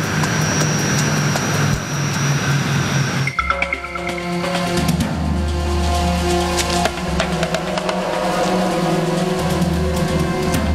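An Embraer 120 regional airliner of the Continental Express fleet flying, a loud continuous propeller and engine drone with steady tonal hum that shifts partway through, close and without speech.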